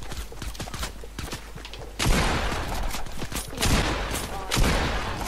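Fortnite gunfire: scattered light taps and clicks lead into a loud, sustained burst of shooting, with further heavy volleys following in close succession.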